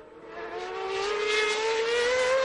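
A John Barnard designed Ferrari race car engine screams close by, one sustained high-pitched rising note as it accelerates, loud and alone.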